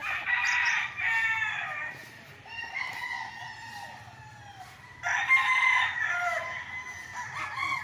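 Fighting cocks on a Pagsanjan, Laguna farm crow repeatedly, three long strained calls overlapping from different distances, with soft clucks and low ambient hum between them.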